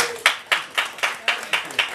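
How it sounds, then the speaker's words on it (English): Rhythmic clapping after an expert panel discussion, eight sharp, evenly spaced claps in quick succession, fairly close and loud, with no one speaking. "Can we get a round of applause for our moderator?"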